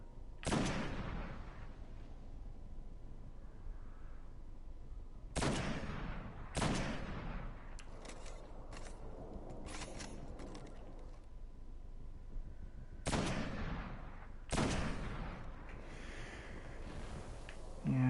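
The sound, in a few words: sniper rifle gunfire in the video game Destiny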